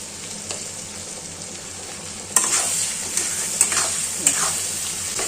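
Onions in a spice paste of cumin, turmeric and ground coriander fry with a steady close sizzle in a pan, while a spoon scrapes and stirs through it in several distinct strokes.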